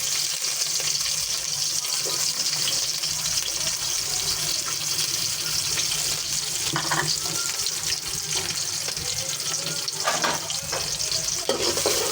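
Bottle gourd curry sizzling and frying in hot oil in a home kitchen, a steady loud crackle with occasional stirring scrapes throughout, no talking.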